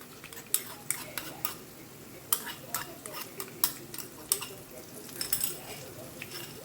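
A sweet mixture with cardamom powder and ghee-fried cashews is stirred in a pan, giving a steady run of clicking, scraping spoon strokes against the metal over a soft background.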